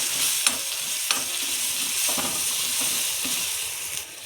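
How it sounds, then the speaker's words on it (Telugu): Masala sizzles and fries in a pan for Maggi noodles, with a few scraping stirs of a spoon cutting through the steady crackling hiss. "ఈ మసాలాని దీంట్లో వేసుకోవాలి వేసుకొని బాగా వేగనిచ్చారు"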